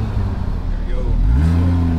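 A car on the road, driven hard with its engine revving and accelerating in a rising low drone, loud and steady, with some talk over it.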